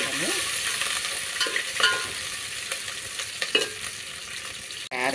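Chopped onions frying in a pan with bay leaves, stirred now and then, giving a steady broad sizzle with occasional scraping strokes, close and moderately loud, no voices.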